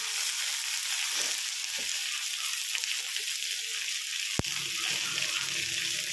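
Water poured into a hot pan of frying green chillies, tomato and garlic, a hissing sizzle with bubbling and a sharp clank partway through, heard up close without speech.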